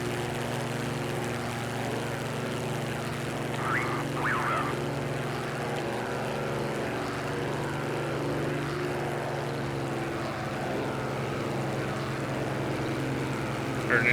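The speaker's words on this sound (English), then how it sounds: "Heard an engine change right there, so basically pulled the boost back and RPM back to maximum continuous power to preserve the engine." Spitfire Mk IX piston engine in the DCS flight simulator, a steady droning propeller roar with a constant low hum, held at maximum continuous power for the whole stretch, no talk.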